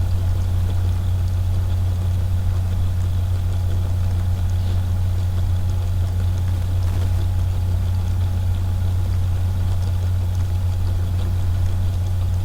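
A small electric motor on a test bench, drawing about 9.1 volts and 160 milliamps, gives off a steady, unbroken low electrical hum with a faint buzzing overtone, constant in level throughout, with no voices.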